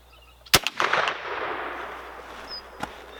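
A Crockett rifle built from a kit fires a single sharp, loud shot outdoors, followed by a rolling echo that fades over about two seconds, with a faint click afterward.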